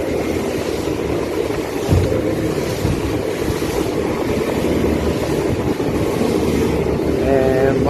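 A fishing boat crossing a sandbar through waves on a sunny day, with loud engine rumble, rushing water and heavy wind buffeting the microphone. A voice is faintly heard under the noise.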